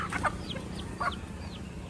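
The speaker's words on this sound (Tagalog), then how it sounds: "marami kasi tayong manok dito" A flock of farm chickens clucking and calling in a yard, with several sharp clucks and short rising calls scattered throughout over low, constant background noise.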